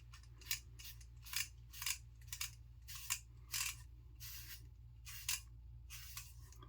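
A 1930s King oscillating safety razor with modern blades clicks while shaving a head, about a dozen sharp, close clicks in an uneven rhythm over a steady low hum.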